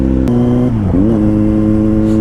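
2021 Kawasaki Z900 motorcycle exhaust, a loud close engine drone that dips briefly and then rises again into a steady, strongly tonal rev while riding.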